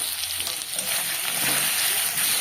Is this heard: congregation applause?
no